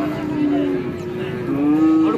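Cattle at a livestock market give two long, loud moos close by, one after the other, with faint crowd noise underneath.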